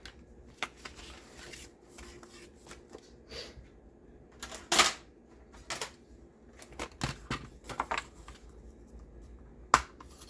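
Pieces of material are cut to size for a handmade folio. Sharp, irregular snips and crisp rustles sound close by in a quiet room, with scattered pauses between cuts.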